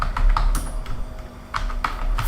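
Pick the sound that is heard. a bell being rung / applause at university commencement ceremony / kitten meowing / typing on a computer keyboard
typing on a computer keyboard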